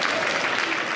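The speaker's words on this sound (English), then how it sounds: "I'll take the applause." An audience at the Afreximbank 2025 annual meetings claps loudly in a dense, even burst of applause, with no voices over it.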